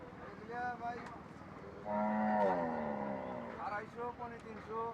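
Cattle at a crowded Qurbani cattle market in Ashulia give a long, loud, close moo lasting about two seconds, with people talking nearby before and after it.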